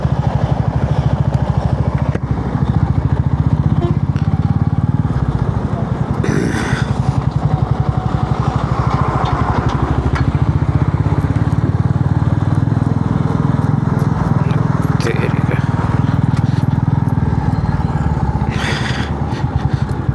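Motorcycles, including an XPulse, ride along a rough mountain road in Mustang. Their engines drone steadily and close by, with rattling clatter and occasional gusts of wind, and no talking is heard.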